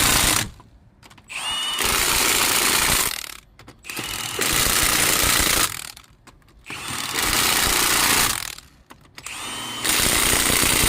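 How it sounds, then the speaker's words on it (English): An 18 volt Milwaukee 1/2 inch impact wrench tightens lug nuts on a Ford Transit box truck during a flat tire change. It hammers loudly in four long bursts, each separated by a short pause, up close and without talking. "18 volt Milwaukee 1/2 inch impact, has torque settings so you don't over torque it"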